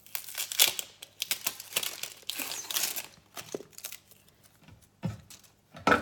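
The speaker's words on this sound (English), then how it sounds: "Now you can either peel this by hand, and then that'll come right off." Papery onion skin peeled by hand, close crinkling and tearing crackles in short irregular bursts with quiet pauses between.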